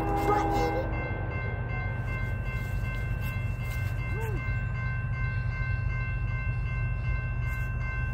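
A westbound freight train rolls past at Macungie, Pennsylvania, a steady low rumble of wheels and cars held throughout, with a brief tonal horn-like sweep partway through and no talk.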